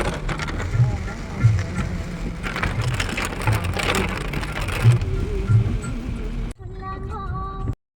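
Steady rain drumming on a car during a drive through Idukki, Kerala, a dense continuous hiss with road rumble underneath, then a sudden drop to a quieter cabin with faint tones near the end.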